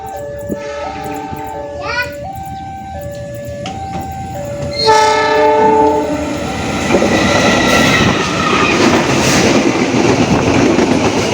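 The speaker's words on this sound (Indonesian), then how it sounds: "Ini dia kereta api Argo Wilis dari Bandung dengan tujuan akhir stasiun Surabaya Gubeng menyelang KA Serayu di stasiun Indihiyang" The Argo Wilis passenger train passes close by with a loud, stepped horn blast, followed by a roaring rush and rumble of cars going by, with talk at the start.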